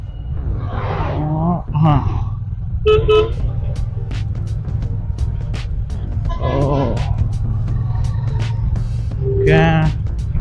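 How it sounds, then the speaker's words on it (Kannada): Dense road traffic on a drive out of Bangalore, a steady low rumble of engines with several short car horn toots scattered throughout, some near and sharp, others further off. "ತುಂಬ ಜಾಸ್ತಿ ಟ್ರಾಫಿಕ್, ಎರಡಾಬರಿ ಟ್ರಾಫಿಕ್ ಇದೆ ಮಾತ್ರ ಇಲ್ಲಿ"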